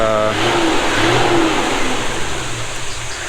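A vehicle engine on a mountain track at high altitude, having overheated, revs up with a rising whine and then settles into a steady mid-range rumble, loud and close throughout.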